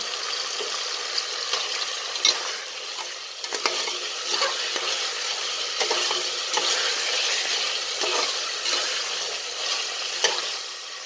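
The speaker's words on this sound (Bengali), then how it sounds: "তো এখন দেবো আমি চিংড়ি মাছটা" Raw washed prawns hit a hot pan for biryani and fry with a steady, dense sizzle, with soft stirring scrapes throughout and no voices.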